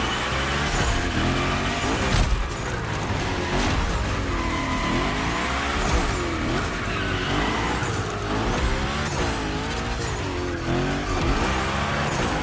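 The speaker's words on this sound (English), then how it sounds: "We're focusing on gymkhana essentials, big slides, and precision." A Hoonigan car in The Crew Motorfest gymkhana, engine revving and wavering as the car slides, with continuous tire squeal and skidding, loud and steady throughout with no talking.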